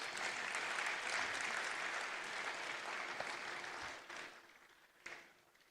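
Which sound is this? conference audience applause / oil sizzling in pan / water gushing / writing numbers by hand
conference audience applause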